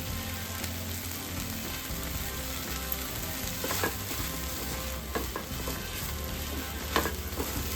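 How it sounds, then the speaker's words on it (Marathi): Egg bhurji with coriander sautés in a pan, a loud continuous sizzle close up with occasional scraping and stirring clicks, no speech over it. "आणि अशी चांगली परतून घ्यायची।"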